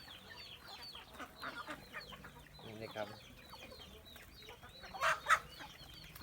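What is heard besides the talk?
chickens clucking on a farm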